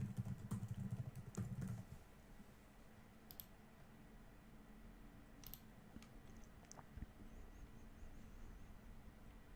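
Computer keyboard typing, with quiet scattered key clicks over a steady low hum; a brief denser burst comes early, and the rest is sparse and faint.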